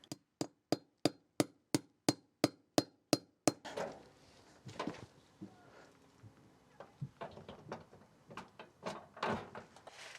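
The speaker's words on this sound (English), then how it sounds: "and then you just tap it with a hammer." Sharp hammer taps drive an anchor into a shed base, about eleven evenly spaced strikes in a quick steady rhythm, close and loud, followed by scattered knocks and handling clatter.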